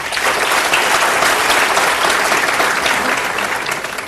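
Loud, dense audience applause welcoming Pinakin Desai at a talk on domestic transfer pricing, a steady wash of many hands clapping at close range that holds evenly for about four seconds.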